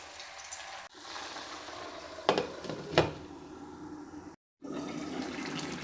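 Bottle gourd and shrimp cooking in a pan give a steady, faint sizzle, broken by a couple of scraping stirs and a brief dropout, with no voices.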